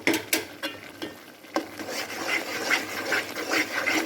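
Halwa with ghee stirred steadily in a pan, with a series of soft scraping and clinking strokes of the spoon against the metal, repeating at an uneven pace, close and fairly quiet.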